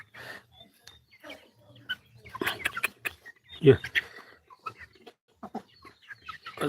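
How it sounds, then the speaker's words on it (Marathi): Chickens cluck in scattered short bursts, one louder squawk near the middle, with people talking intermittently nearby. "आता हे आमचे कोंबडी सापडते मित्रांनो"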